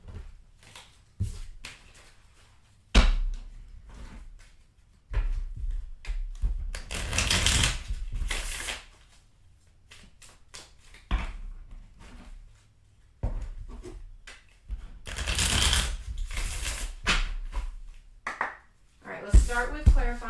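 Tarot cards being shuffled and laid out on a table, with bursts of riffling and flicking separated by quieter gaps and soft taps as cards are set down, heard close up without talk.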